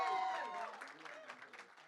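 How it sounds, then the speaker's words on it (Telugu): Faint applause rises from a crowd at a film teaser launch event as the director is called onstage, fading over a couple of seconds behind a distant voice. "గట్టిగా చప్పట్లతో రిక్వెస్ట్ చేద్దాం"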